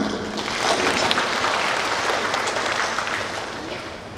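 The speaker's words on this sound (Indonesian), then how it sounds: "Tepuk tangan untuk kalian." Broadband, steady clapping from a crowd at a government public service event, sustained for several seconds and slowly tapering toward the end.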